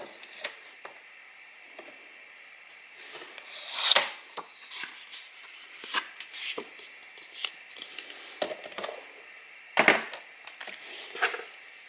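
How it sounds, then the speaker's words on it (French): A paper card measuring 14.85 by 21 cm is folded at its center and creased, giving dry rustles and sharp scraping swipes at close range, with a louder crinkle midway and near the end. "du coup je la plie à son centre"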